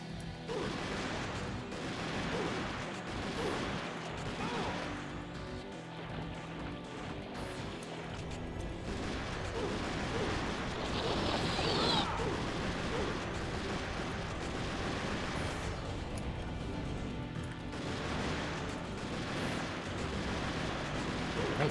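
Gunshots in the arcade video game Vampire Night, heard as a steady barrage of punchy shots and crashing impacts over loud, continuous game music and effects, with a voice talking at times.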